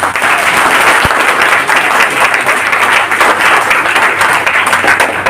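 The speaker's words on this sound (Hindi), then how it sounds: "मैं पहले अपने अपलाइन के लिए तालियां बजवाना चाहती हूँ।" Applause for an upline fills a hall at an RCM team celebration in Ludhiana, loud and sustained for about five seconds with no talk over it.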